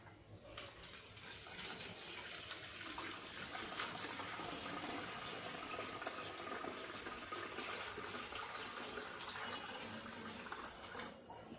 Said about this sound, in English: I will use this sanitizer and pour this in my container, and using this funnel